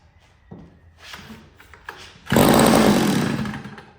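A small two-stroke engine on a cheap yard sale edger is pulled over with the choke on, a few quiet rattling pulls and then a brief loud sputtering catch that fades after about a second.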